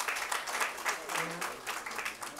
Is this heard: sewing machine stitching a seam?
no